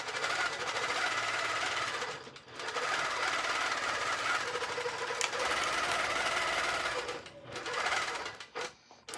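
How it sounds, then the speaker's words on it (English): A computerized Prostitcher quilting machine stitching, a fast steady mechanical whir and needle chatter with brief pauses and a stop near the end, no talk. "So I just hit Prostitcher, run, pull up my thread."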